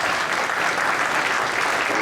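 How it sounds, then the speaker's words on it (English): Dense, steady applause from an audience at a spring kick-off event honoring seventeen newly certified program mentors; continuous clapping fills the full two seconds with no pauses. "So please give them a round of applause."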